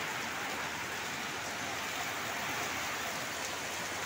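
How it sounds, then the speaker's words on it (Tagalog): Heavy rain falls in the Philippines during Typhoon Karding, making a steady, dense hiss of downpour that fills the whole clip at an even level, with no voices. "Malakas na ulan dito sa amin ngayon."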